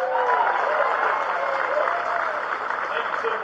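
A political rally crowd applauds and cheers steadily after a congressional candidate is introduced, a dense wash of clapping throughout with a voice speaking over it.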